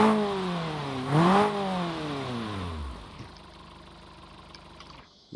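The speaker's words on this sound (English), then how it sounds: "You can hear the idle is a bit more quiet in this one, and the exhaust is just a bit more muffled" A BMW E36 Motorsport edition engine with a dual exit exhaust in a video game sound mod revs and then drops to a low, muffled, steady idle rumble, quiet and continuous.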